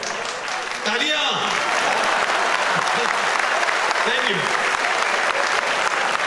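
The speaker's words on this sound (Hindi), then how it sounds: "तालियां।" An audience at a stage event bursts into sustained applause, a dense wash of clapping that holds steady throughout while a voice speaks briefly over it.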